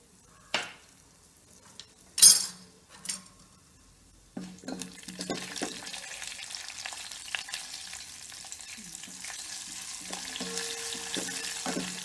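Urad dal and a pinch of hing roasting in oil in a pan over a very low flame, giving a soft, steady sizzle with a few louder clinks and stirring knocks early on.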